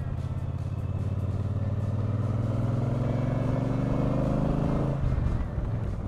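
A motorcycle rides along a tiny single-carriageway road across Dartmoor moorland, its engine droning steadily and loud throughout with a rising, shifting pitch as it accelerates, then a brief change near the end.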